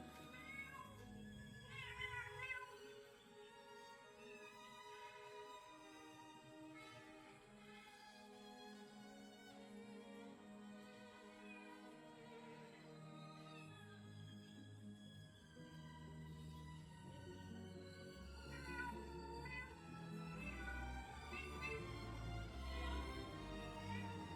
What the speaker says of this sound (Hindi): बच्चा वहीं से म्याऊं म्याऊं